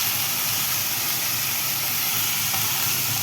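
Chopped onions sizzle in a hot pan, a steady, dense hiss that holds evenly throughout with no voices over it.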